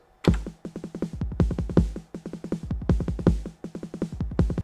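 A Roland 909 drum machine loops a bass drum and snare pattern, punchy kicks interlocking with rapid snare hits in a steady, busy groove, loud and close with no talking.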